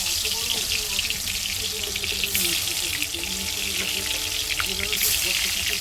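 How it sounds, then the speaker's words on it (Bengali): Salted, turmeric-coated potatoes frying in hot oil, a continuous close sizzle and hiss mixed with watery bubbling, steady throughout. "নুন হলুদ দিয়ে মাখিয়ে রাখা আলুটাকে তেলের মধ্যে দিয়ে দিলাম।"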